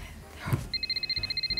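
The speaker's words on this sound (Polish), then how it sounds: "bo dzwoni telefon" A telephone rings with a rapid, steady electronic trill in even pulses, clear and close after a soft rustle at the start, during a lively girls' party.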